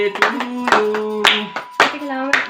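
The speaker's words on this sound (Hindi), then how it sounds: "यार मेरा हाथ खाली नहीं, मैं ताली बजा रहा है" A few people clap hands at a family first-birthday celebration in a home, several sharp irregular claps close by mixed with singing voices.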